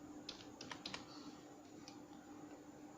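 Quiet, steady typing on a computer keyboard, a run of soft key clicks with a few louder taps near the start over a low background hum.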